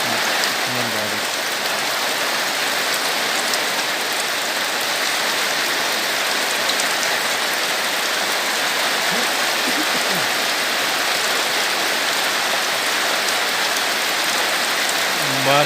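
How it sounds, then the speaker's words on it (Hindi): Heavy rain falling in a village, a dense, steady hiss of downpour on surfaces that stays loud and unbroken from start to finish, with no voices. "अभी हैवी बारिश हो रहा है गांव में।"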